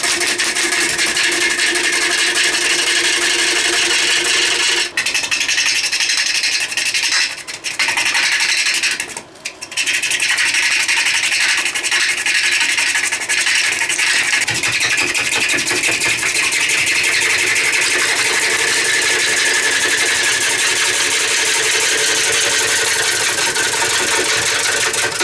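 A wood lathe turns a green, moisture-laden wood bowl, giving a steady, loud, continuous whirring hum with broadband scraping from the cutting tool, briefly interrupted by a couple of short dips.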